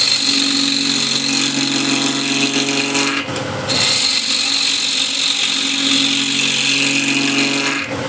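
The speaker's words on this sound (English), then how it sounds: "So I'm using wing of the gouge to get some undercut shape here." A bowl gouge cuts a hexagon wooden plate blank spinning on a lathe, a loud steady scraping rasp over the motor's hum, broken by one brief pause partway through.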